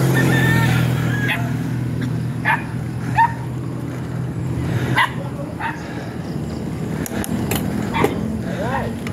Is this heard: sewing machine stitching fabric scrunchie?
no